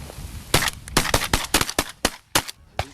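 A 10 gauge shotgun fired in rapid succession outdoors, about ten loud sharp blasts in an uneven rhythm, each with a short ringing tail, close and unaccompanied by talk.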